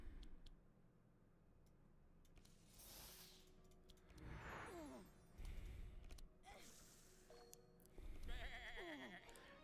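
Sheep bleat in a card video game during a boss fight, several wavering cries between 4 and 9 seconds over busy game effects, chimes and clatter.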